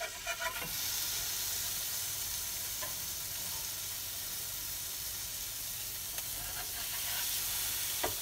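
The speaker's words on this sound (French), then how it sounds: "Allez, c'est parti, on fait cuire le steak." Burger patty sizzling in a pan, a dense, steady hiss of frying fat that holds throughout at close range, with a few faint clinks at the start and end.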